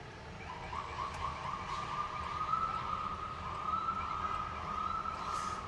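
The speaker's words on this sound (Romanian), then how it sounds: "avem și o situație foarte interesantă în care și auzim o ambulanță" An ambulance siren wails in a steady, drawn-out tone over a constant low rumble of San Francisco traffic, sounding a moderate distance away.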